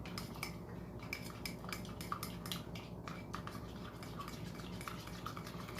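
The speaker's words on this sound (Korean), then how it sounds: "이렇게 해서 잘 섞어 줄게요" Homemade Vaseline moisturizing cream with hyaluronic acid and aloe gel is stirred in a dish, a spoon scraping and clinking steadily against the sides in close, quiet, continuous strokes.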